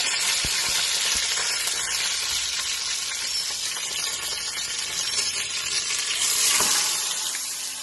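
Maanthal fish frying in hot oil, a steady dense sizzle that holds the whole time, close and fairly loud, with a few faint pops and scrapes and no talk.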